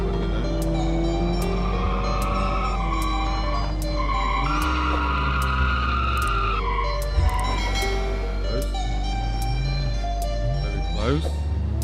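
A car in the BeamNG.drive driving game revs loudly under steady engine drone, with exhaust pops and bangs crackling over it and tyres squealing through a corner, continuous throughout.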